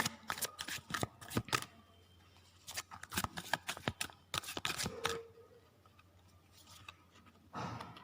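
Tarot-style cards handled and picked, a run of quick close papery flicks and slides in irregular bursts, separated by brief quiet gaps, ending in a longer soft shuffle.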